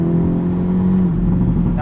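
A 2022 Hyundai Elantra N with a dual-clutch transmission revving while driving, with a loud, steady engine drone and rising harmonic tones heard from inside the car, without speech.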